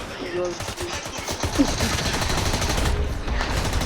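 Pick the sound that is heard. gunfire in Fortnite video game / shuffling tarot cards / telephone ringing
gunfire in Fortnite video game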